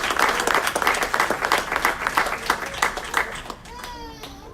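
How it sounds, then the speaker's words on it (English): Lively audience applause at an Aurora city council meeting, with dense clapping that fills most of the moment, then fades as voices carry on near the end. "Big round of applause for them."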